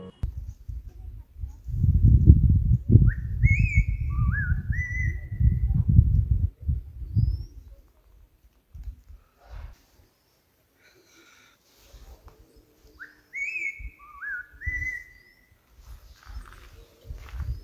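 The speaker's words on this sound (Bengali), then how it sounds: "পাখির ডাক শুনলেন আপনারা?" Birds calling in the forest near Tumling on the Sandakphu trek, two clear bursts of bright descending whistled phrases spaced well apart, over low rumbling and shuffling movement at first, then near silence.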